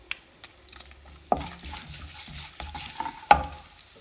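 Dried red chillies and fenugreek sizzle and crackle in hot oil in a pan for a South Indian vendhaya kulambu, with a steady close frying hiss broken by a couple of sharp utensil knocks.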